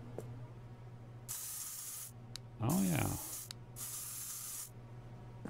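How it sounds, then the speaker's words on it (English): Spray paint hisses in the art simulator game SuchArt as two long, bright bursts each lasting over a second, with a short spritz between them and a brief voice in the gap. "Oh, is this more spray paint?"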